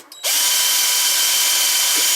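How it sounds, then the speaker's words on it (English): A centre drill spots a starting hole in metal on a Myford Super 7 lathe setup, spinning up suddenly into a steady, loud, high whine that runs continuously up close. "Here's the centre drill, just"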